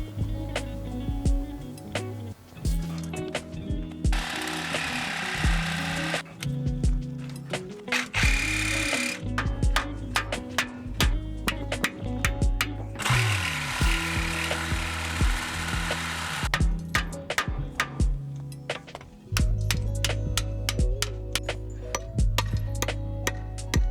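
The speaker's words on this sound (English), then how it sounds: "Now I have to sawzall out the metal sleeve." A cordless reciprocating saw cuts out a metal bushing sleeve on a 1991 Montero, a loud rapid buzzing with chattering metallic rattles that starts and stops in several long bursts.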